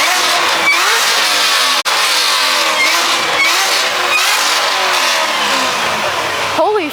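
A Corvette C6 ZR1 at a crowded car meet revs its V8 repeatedly in loud surging bursts, heard close up. Voices of the crowd chatter throughout and a brief dropout breaks the sound midway.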